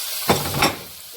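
Tomatoes tipped into a pot of beef stew and stirred, giving two short bursts of scraping and sizzling close by, then a quieter simmering hiss.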